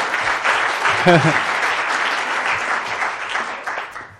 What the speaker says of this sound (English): A big round of applause, please, for our panel